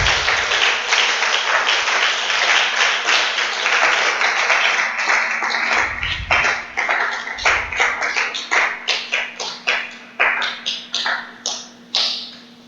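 A church congregation breaks into applause, a dense loud wash of clapping that thins over several seconds into slower, separate claps that fade out, with no talking.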